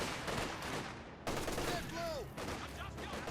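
Rapid machine gun bursts crackle through a Company of Heroes 2 World War II battle, layered with other gunfire and game effects in a dense, continuous stretch.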